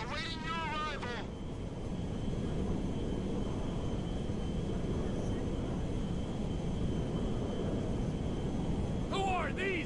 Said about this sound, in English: Ronnie, the cargo jet is now part of the TP Enterprise fleet.